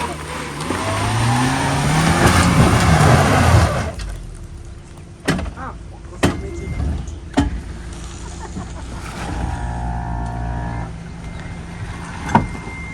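An off-road 4x4 engine revs hard and strains for a few seconds on a wet trail climb, then drops away, leaving scattered knocks and clunks with a low idle underneath.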